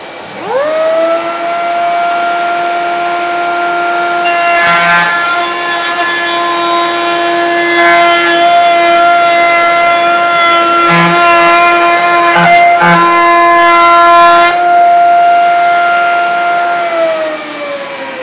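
A router table spins up and cuts wood for a raised panel door with a shop vacuum running, giving a loud sustained whine that holds steady for about fifteen seconds. Bursts of cutting noise come in the middle, and the whine winds down at the end.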